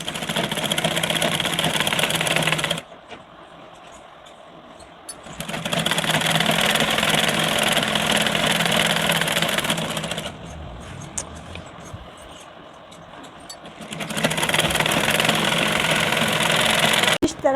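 A sewing machine stitching a blouse sleeve runs in three long bursts separated by quieter pauses, its fast mechanical whir steady and close, with no talk.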